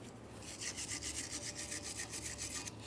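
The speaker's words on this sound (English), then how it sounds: "Use a wire brush." A wire brush scrubbing the base of a Ford Fusion steering knuckle, a quick rhythmic back-and-forth rasp of even strokes, fairly faint and close, with no talk.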